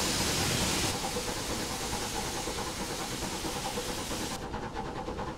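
Steam locomotive water and steam injectors running in Train Simulator, a loud broadband steam hiss rushing steadily, its tone shifting partway through and again near the end.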